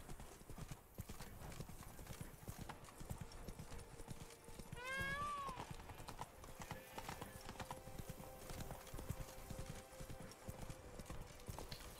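Horse galloping in The Witcher 3 video game, with a steady fast clip-clop of hooves throughout, a brief whinny near the middle, and game ambience behind it.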